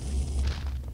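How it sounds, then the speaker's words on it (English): A fire trap bursts out in the crypt of the video game Return to Castle Wolfenstein, making a loud, continuous whooshing roar with a deep rumble that lasts about a second, with no voices. "And see, here comes the fire."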